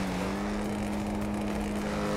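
A car engine in GTA 5 on a mega ramp drones steadily, a loud sustained hum with a constant tonal whine, continuous and unbroken throughout with no talking.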